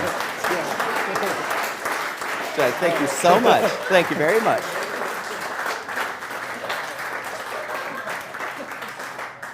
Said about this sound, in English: That's what we call an applause cue.